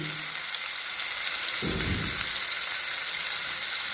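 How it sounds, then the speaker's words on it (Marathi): A whole cauliflower, cooked for a party-style gobi sabji, fries in hot oil with a loud, dense, continuous sizzle and crackle, and a low bubbling surge midway through. Close up, with no voices. "असा हा फ्लॉवर तेलामध्ये आपण फ्राय करायचा मिनिटभर झाकण ठेवायचं"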